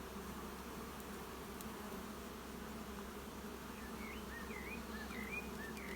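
Honeybees buzz around breeding hives at an apiary in a steady, faint droning hum, with a few high chirps appearing near the end.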